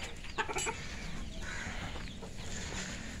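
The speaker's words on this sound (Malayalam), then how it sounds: "ഇതൊക്കെ നമ്മൾ കൊടുത്ത കോഴികളുണ്ട്." Free-range country chickens on a farm: scattered soft clucks and brief calls over quiet outdoor background noise.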